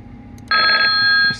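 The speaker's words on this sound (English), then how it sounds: "Receive call." Windows XP receive-call notification chime on a Dell Dimension computer, a short bright electronic ring lasting under a second, clear and fairly loud over faint background hiss.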